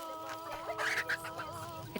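A chicken clucks in an African village in the late afternoon, a short run of soft repeated clucks over a steady outdoor hum, fairly close and moderately loud.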